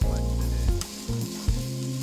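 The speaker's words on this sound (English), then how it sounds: "we've got a little sizzle action going on there" A pan sizzles steadily while a cream sauce for salmon en croute cooks, a close, bright frying hiss broken by a few soft clinks and shifts as something is stirred or moved, with no talking.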